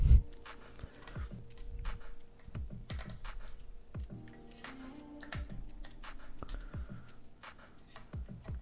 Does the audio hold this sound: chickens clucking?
no